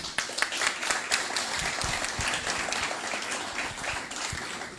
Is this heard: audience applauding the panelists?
yes